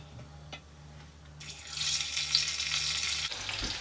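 Tofu dropped into a hot pan where lotus roots were cooking, a sudden bright hiss of frying that rises and holds steady for a couple of seconds before cutting off, close and moderately loud.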